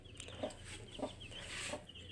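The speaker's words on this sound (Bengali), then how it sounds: "আর আমার বাসায় বড় মুরগিগুলো ডিম দিচ্ছে একদম পোলট্রির মতো" Laying hens at a home poultry setup cluck softly in a few short, spaced calls against steady low background noise, with no talk.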